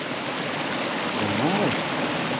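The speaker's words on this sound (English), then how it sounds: "Crystal clear water. And a nice water crossing." Clear stream water rushes steadily at a hiking water crossing in Sweden, a loud close broadband wash that holds throughout, with a brief rising and falling tonal whine in the middle.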